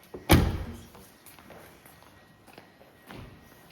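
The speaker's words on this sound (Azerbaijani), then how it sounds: "Qapını örtürsən." A Tesla Model 3 car door shuts with one solid, close thud, followed by a quieter second thump a few seconds later in an otherwise quiet setting.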